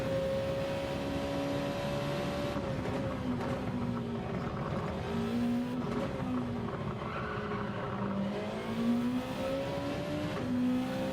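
A Group 2 race car engine in a racing video game drones steadily at partial throttle, its pitch rising and dipping gently across gear changes. The sound is continuous and moderately loud, with no talking.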